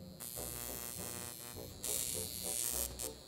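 An electrical stimulation device shaped like a toothbrush buzzes steadily once switched on, growing noticeably louder and brighter partway through, close to the microphone with no talking.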